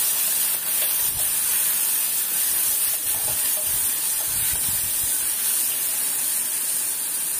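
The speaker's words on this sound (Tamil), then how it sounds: "ஆயில் லைட்டாக ஃப்ரை ஆகணும்." Vegetables fry lightly in oil in a pan for Bombay chutney, giving a constant loud sizzling hiss with faint stirring knocks underneath.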